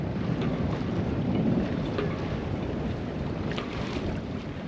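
A sailboat motors out of the marina at Motril in Spain, with steady wind buffeting the microphone and a continuous low rush of water and engine noise that stays even throughout.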